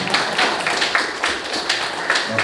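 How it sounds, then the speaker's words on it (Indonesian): Audience clapping for participants at a Quran scientific-paper presentation final, a brief patch of scattered, moderately loud handclaps with an uneven rhythm. "Tepuk tangan untuk peserta acara ini"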